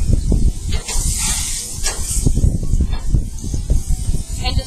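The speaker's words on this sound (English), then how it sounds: "Okay, onto the grill pan goes my tindora." Tindora sizzling and hissing on a preheated slotted grill pan, a loud, close, continuous spitting crackle that carries through the whole stretch.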